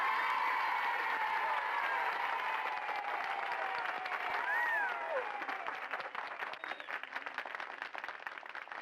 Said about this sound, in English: let's give her a big round of applause, our chairman of the board, Mary Kay